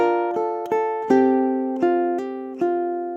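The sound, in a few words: ukulele playing measure seven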